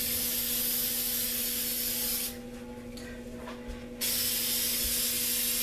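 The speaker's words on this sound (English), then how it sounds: "just kind of let that spray go across the canvas" A steady hiss of spray paint sweeping across a canvas while painting a nebula, loud and continuous, cutting off briefly midway before the spraying resumes, no talking.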